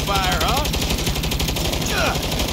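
Rapid bursts of automatic gunfire from a helicopter in the Saints Row video game, loud and dense, rattling without pause over a busy mix of game sound.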